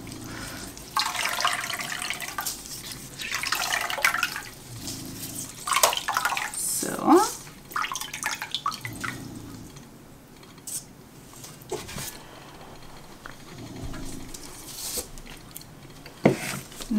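Soaked waste paper squeezed out by hand, water splashing and dripping in irregular bursts, close and moderately loud, with intermittent gaps between squeezes.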